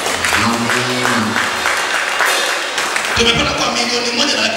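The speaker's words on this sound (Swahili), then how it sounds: "pigie Yesu makofi." A church congregation claps in praise, a loud dense burst of applause mixed with voices and shouting over several seconds.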